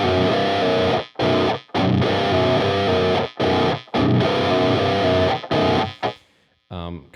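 Distorted electric guitar plays a riff slowly, with heavy power chords on the low two strings alternating with open strings, in loud chugging bursts separated by short silent gaps.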